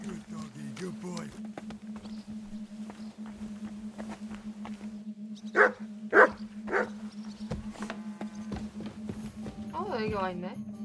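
Dog in the video game Kingdom Come Deliverance II giving a few short, moderately loud barks in quick succession over a steady droning game hum, with speech and footsteps before and after.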